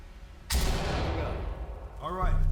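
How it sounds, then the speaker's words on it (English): A flashbang grenade detonating in the tactical shooter Ready Or Not: a single sudden, loud blast with a long ringing decay, followed by a voice speaking near the end. "Readying flashbang."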